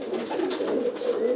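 Roller pigeons in a breeding loft give a low, steady cooing that continues throughout, close and moderately loud, with soft murmuring layered over it.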